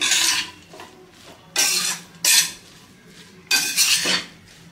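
Kachori filling with chopped coriander is stirred in a bowl: a few separate bursts of scraping and clinking utensil against the bowl, close and fairly loud, with quiet pauses between them.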